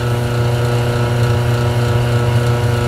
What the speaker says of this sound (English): I have oiled that motor several times, so it's running good.